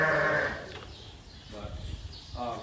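Whiteface sheep bleat at a lambing barn, a loud wavering call opening the moment and further shorter bleats following, with speech mixed in.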